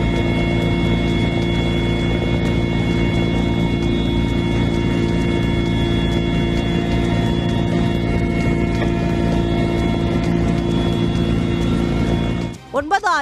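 An IAF Mi-17V5 helicopter fighting a forest fire at about 9,500 feet in Arunachal Pradesh's Lohit valley: a loud, steady rotor and turbine drone with tonal whine, continuous throughout, with a brief voice near the end.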